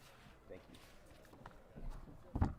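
Hooves clip-clop on the ground at a horse sale, with a few uneven, soft footfalls scattered through the clip and a firmer thud near the end, all heard beneath ongoing speech.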